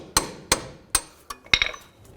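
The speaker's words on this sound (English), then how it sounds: "I'm just going to take a punch and a hammer and just punch these bolts out." A hammer drives a punch to knock out bolts on a 1996–2004 Nissan Pathfinder front axle assembly: five sharp metallic strikes at irregular intervals, close and clear, with brief ringing after each and no talk.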